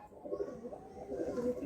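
Madrasi high flying pigeons are handled, giving soft, low cooing calls close by, faint and repeated over the short stretch with no speech.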